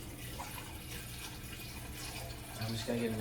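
Tap water running into a container for about two cups of coffee in a home kitchen, a soft steady stream close by with a rising filling tone toward the end.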